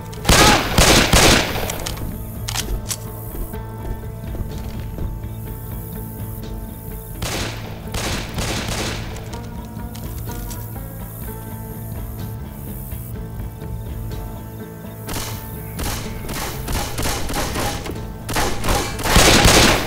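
Left 4 Dead 2 gunfire: repeated loud bursts of shots and clattering weapon handling, sharp volleys clustered at the start and again later, with quieter stretches of mechanical clicks and game noise between.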